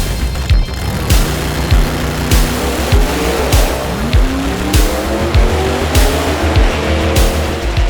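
A drag race car spins its tires hard at the launch, a loud continuous engine roar with rough, repeated revving pulses and squealing rubber running close and steady throughout.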